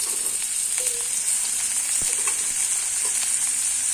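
Finely sliced potatoes frying with chillies in oil, a steady loud sizzle running throughout with a few small pops and crackles.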